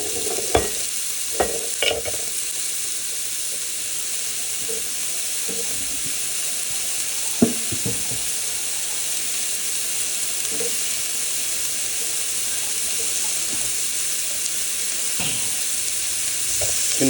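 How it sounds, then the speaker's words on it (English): Lemon chicken sears in a pan with a steady, close sizzle and hiss while a spatula presses and scrapes the pieces in occasional sharp clicks, no talking. "kind of pushing down on these, make sure we're getting a nice good sear on these guys"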